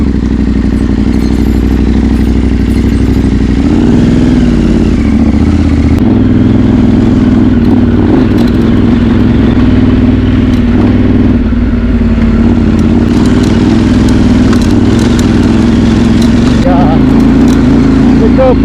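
Adventure motorcycle riding a mountain trail around the La Sal peaks: a loud, steady mid-pitched engine drone throughout with slight rises in revs and some clatter, close to the microphone, with wind-buffeted voices faintly mixed in.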